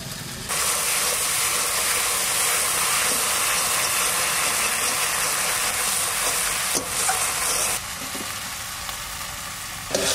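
Potatoes fry in a wok with spices, giving a loud, steady sizzle that runs almost the whole time, with a brief scrape or stir near the end.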